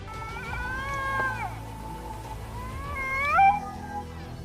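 A Canada lynx yowls, rising and falling in two long, wavering calls, the second climbing sharply before ending, over a low rumbling background.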